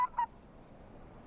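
Two short, faint honks from cartoon birds in a My Little Pony episode, quick in succession and then fading into a quiet background hiss.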